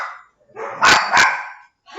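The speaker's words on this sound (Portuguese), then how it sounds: "aqui tem um cachorro da vizinha" A neighbor's dog barks near and loud, giving a few sharp barks in close succession, with brief whimpering yelps around them.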